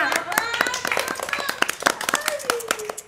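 Scattered audience clapping on a talk show, uneven sharp claps from a few people rising and falling while voices talk and laugh over them.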